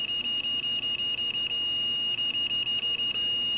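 A multimeter's continuity tester beeps rapidly at about 5 hertz, a string of sharp high-pitched pulses that stutters and pauses midway before resuming, close and clear over faint background hiss.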